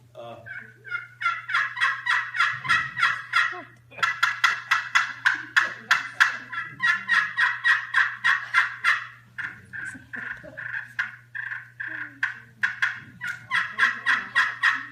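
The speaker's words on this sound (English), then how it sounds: "that's a hen turkey." A hen turkey call: yelping and clucking in steady, rapid series of short notes, fairly close and clear, with brief pauses between bursts.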